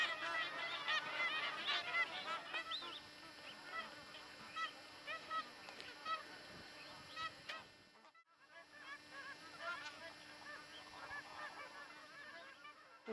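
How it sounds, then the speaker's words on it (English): Goose-like honking and chattering calls from a large flock fill the wetland air at Townsville Common, a steady, fairly distant chorus with many overlapping voices and a brief dip before the calling resumes. "Townsville Common is just alive with all sorts of bird life."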